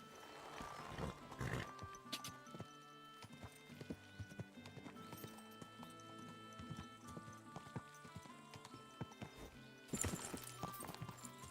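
Horse hooves clip-clop steadily in the medieval video game Kingdom Come: Deliverance 2, a continuous rhythmic trot with tack jingling, up close and mixed with game ambience, swelling louder near the end.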